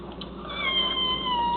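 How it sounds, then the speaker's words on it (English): A kitten being bathed gives a drawn-out, wavering meow that rises in strength midway and holds, close and alone with no talk around it. "If he meows like he just did"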